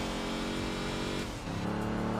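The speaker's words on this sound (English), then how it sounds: "the lower rumble of a Mustang in the exhaust section" A Ford Mustang in a racing video game gives off a low exhaust rumble: a steady, deep engine drone that swells slightly partway through, with no voices over it.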